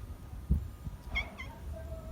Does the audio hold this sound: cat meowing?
yes